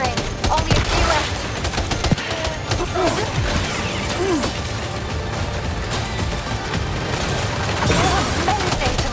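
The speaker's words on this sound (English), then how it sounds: "Keep firing" Sustained gunfire and explosions in the video game Death Stranding 2, loud dense bursts of shots rolling continuously with booms underneath, a voice faintly talking beneath the barrage.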